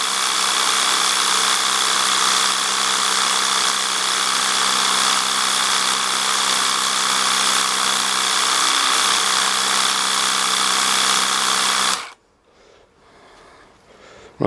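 A Worx Hydroshot cordless pressure washer cleaning garden decking, a loud steady motor whine and spray hiss running continuously up close, then cutting off abruptly into near silence.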